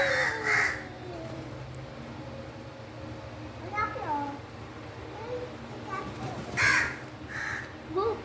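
Several crows caw outdoors, a few loud harsh calls at the start and again near the end, with quieter calls between them. People speak in the background.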